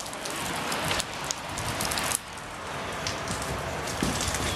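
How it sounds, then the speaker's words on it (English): Steady rain pours down outdoors during an April walk, a dense, continuous hiss of drops striking nearby surfaces, loud and close with no voices over it. "it only feels bad that it's raining"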